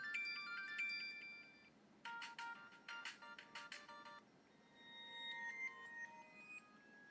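An old Windows Phone plays its ringtones one after another from the ringtones and sounds settings: bright, chiming electronic melodies separated by short pauses, fairly quiet and heard alone.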